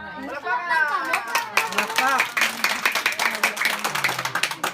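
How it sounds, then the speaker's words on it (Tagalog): Children and adults clap together at a school supplies and groceries giveaway, a burst of scattered hand claps settling into rapid rhythmic clapping, with chatter and voices mixed in. "Palakpak!"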